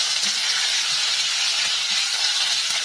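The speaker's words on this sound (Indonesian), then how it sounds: "Kemudian kita aduk dan tumis tetelannya sampai berubah warna." Beef trimmings stir-frying for Betawi soto give off a steady, loud broadband sizzle and hiss that runs unbroken throughout, close up, with no talking.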